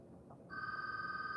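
Telephone ringing indoors in a wire-craft workspace, a bright electronic ring that starts abruptly about halfway in and continues steadily, clear against a quiet background.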